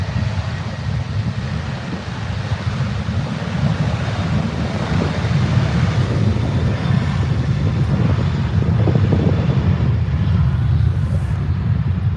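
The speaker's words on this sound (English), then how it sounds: "that was a pretty nice spool up actually from the 737" A Boeing 737 spools up its jet engines at Adelaide Airport, making a loud, sustained low roar that builds steadily and stays strong throughout, heard from a distance outdoors.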